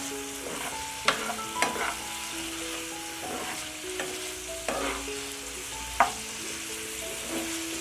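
Paprika-spiced chicken for shawarma fries over a medium-high flame, with a steady sizzle broken by sharp utensil clacks as it is stirred, close and fairly quiet.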